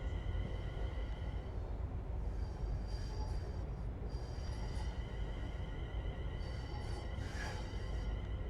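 In the Train Sim World 5 video game, a train arrives at London Euston station with a steady low rumble of wheels on rail and intermittent faint high squeals and brake hisses, alone and moderately distant.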